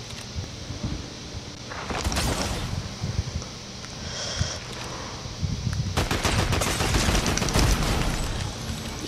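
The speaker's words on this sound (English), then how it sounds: "This shotgun is awesome, dude. It does a lot of damage." Shotgun blasts in Fortnite ring out as loud, clustered bursts of gunfire around two and six seconds, the later volley rapid and dense, over steady game background noise.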